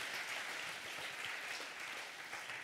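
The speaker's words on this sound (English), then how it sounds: "Give a clap to Jesus." Church congregation clapping together during a sermon, a faint, steady spread of applause heard alone without talk.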